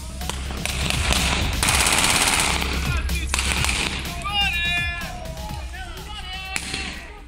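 Gunfire crackles through a neighborhood in La Quebrada, Renca, Chile, during fan clashes around a Colo-Colo versus Universidad de Chile match, with dense bursts of shots over a noisy crowd and shouting voices.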